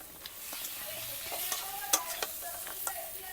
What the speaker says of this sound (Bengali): এবার আমি কাঁকড়া আর আলুটা দিয়ে দিচ্ছি